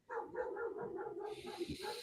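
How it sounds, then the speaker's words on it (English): A dog barking in a quick series of about six close, moderately loud barks, followed by a couple of sharper yips under faint hiss, with no talk. "My dog's going crazy."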